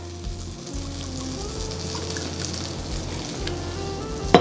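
Butter and olive oil sizzle steadily in a pan for a sauce, a continuous close frying hiss with a low background hum and a small clatter at the very end.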